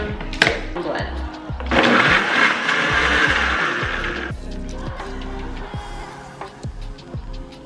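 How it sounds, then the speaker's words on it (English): A kitchen blender whirs loudly as it mixes almond butter with unsweetened almond milk, running for about two and a half seconds and then cutting off, with music playing underneath. "Pop the lid on, blend."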